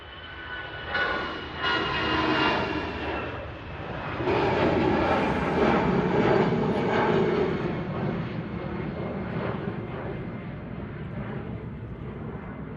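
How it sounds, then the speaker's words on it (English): An EasyJet Airbus-type jet departs runway 23 right at Manchester Airport, its engine roar building into a powerful, broad rumble as it climbs away, heard from a distance outdoors. "There she goes, the EasyJets. Europe aircraft departing there. Nice powerful climb"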